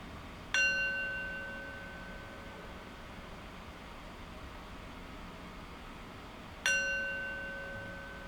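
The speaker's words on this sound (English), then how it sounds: "after the sound of the bell subsides" A meditation bell strikes twice, about six seconds apart, each clear metallic ring slowly fading into a quiet background hiss.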